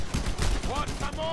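Gunfire from the player's weapon in the video game Just Cause 2, a short burst of several sharp shots in rapid succession with some in-game noise overlapping, loud and close.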